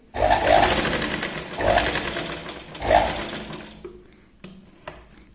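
A sewing machine stitches a Katori blouse in three close, loud bursts of whirring, then falls silent apart from a few small clicks and handling sounds.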